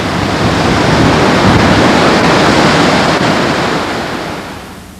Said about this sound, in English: Man, a wind. Oh, another hurricane's coming by.